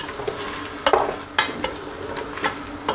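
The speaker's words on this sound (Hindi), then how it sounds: "ये तमाम चीज़ें इसमें डालने के बाद हम इसको अच्छी तरह से गोश्त को भून लेंगे" Meat frying in a pan with dry coriander powder and other spices while being stirred, a steady close sizzle broken by repeated scraping stir strokes, with no voices.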